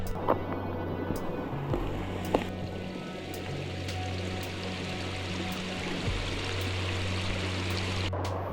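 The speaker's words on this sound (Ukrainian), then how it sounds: "ось там внизу водоспад Буковецький нижній" The Lower Bukovets waterfall, a small cascade about two metres high in the Carpathian mountains, gives a steady rushing roar of falling water heard from nearby, with a few faint knocks and footsteps over it.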